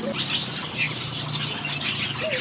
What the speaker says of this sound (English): In this aviary, we keep small and medium-sized birds.